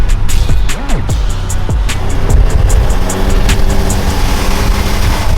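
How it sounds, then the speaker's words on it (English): A car revving hard through a small burnout, its engine note climbing and falling in repeated sweeps, loud and close with steady roar throughout. "He's gonna do a burnout."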